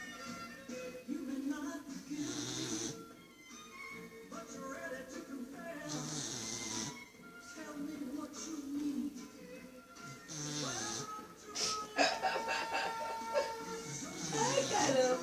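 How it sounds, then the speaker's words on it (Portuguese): A dog snores in rhythmic, rasping breaths close to the microphone, while someone talks and laughs over it throughout. "Nossa, gente, cachorro roncando,"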